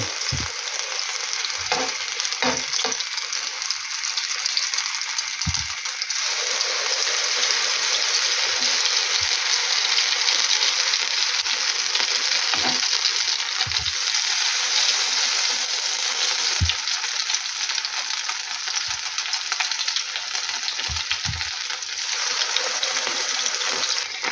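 Potato pancakes (deruny) frying in a pan, a steady loud sizzle of hot oil throughout with occasional soft pops and clinks.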